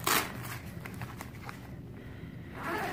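Velcro tearing open on the door of a Denali X-Wind tent, a sharp ripping burst at the start followed by lighter crackling pulls and rustles, close by with no talking.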